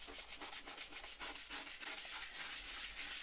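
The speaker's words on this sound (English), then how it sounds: "So I'm going to use the scrubbing brush thing first" A handheld scrubbing brush from an Elbow Grease cleaning set scrubs a tile surface in quick, continuous back-and-forth strokes, a close, steady rasping rhythm with no voices.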